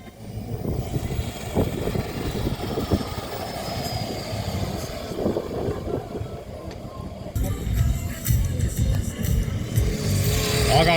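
A 4x4 off-road vehicle powers hard up a steep hill in a hillclimb competition, its engine roaring continuously and loudly, with the sound swelling as it climbs.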